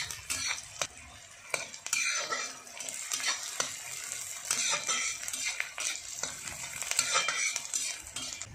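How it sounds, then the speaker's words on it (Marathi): Chopped onion fries in oil in a pan for egg bhurji, a soft steady sizzle broken by repeated sharp scrapes and clinks of a spoon stirring against the metal pan. "कांद्याला जवळपास ब्राऊन होईपर्यंत थोडासा आपण तेलात भाजून घ्यायचा"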